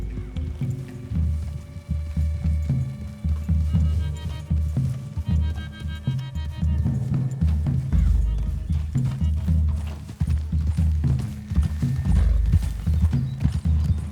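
Horses walk with steady clip-clopping hooves in the Red Dead Redemption 2 video game, a continuous close rhythm over low game music, with occasional whinnies and no talking.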